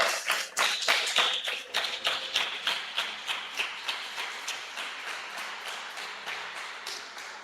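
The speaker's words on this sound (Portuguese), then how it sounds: "aplauda ao Senhor." A church congregation claps together in worship, sharp rhythmic claps in a steady unified beat, strong at first and gradually softer.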